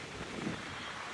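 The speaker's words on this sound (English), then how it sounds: "we are in a wind warning, and as you can see it's very windy" Strong wind during a wind warning buffets the microphone among leaning trees, a rough low roar that swells briefly mid-way and stays loud.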